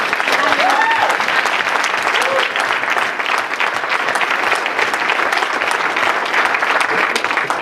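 A crowd bursts into loud, sustained applause at an award ceremony, a dense continuous wash of clapping with a few faint voices and cheers mixed in near the start.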